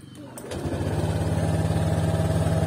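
A Honda Click 125i V3 scooter engine cranks and catches, then settles into a loud, steady, rough idle with a strong buzzing vibration that holds to the end.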